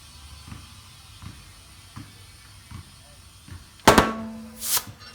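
While a tubeless street motorcycle tire is being inflated, its bead snaps onto the rim with a sudden loud crack, followed moments later by a second burst. Faint rhythmic ticks come before the pops.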